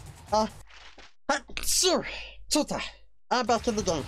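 A single sharp sneeze from hay fever bursts out in The Simpsons-style game footage of Spider-Man 2, with someone speaking around it and game sound effects in the background.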